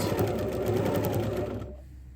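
A sewing machine set to a shortened stitch length of 3 runs in a steady, close whir for about a second and a half, then stops abruptly, leaving near-silence.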